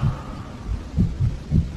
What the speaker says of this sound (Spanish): Ese latido se hacía más y más fuerte por momentos